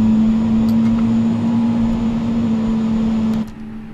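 Steady A320 airliner engine drone in Microsoft Flight Simulator 2020, with a strong low hum and broadband roar, then a click as the level drops slightly near the end.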